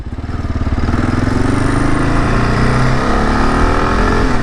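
A 2022 Kawasaki KLR motorcycle engine under way on a highway, a loud close buzzing drone whose pitch climbs steadily as the bike accelerates, with wind noise and no talk.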